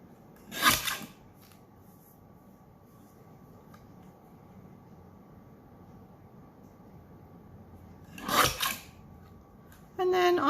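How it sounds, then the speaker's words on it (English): A small paper trimmer slices through card twice, each cut a brief crisp swish separated by a long stretch of quiet room hum. "I'll just get the little trimmer and I'll just trim it down"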